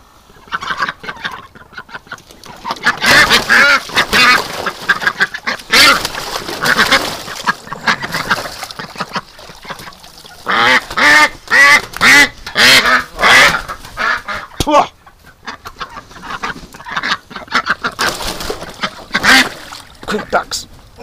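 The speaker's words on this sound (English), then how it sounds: "Ducks." Several ducks quack loudly and close by in overlapping bursts, with short pauses between noisy flurries of calls.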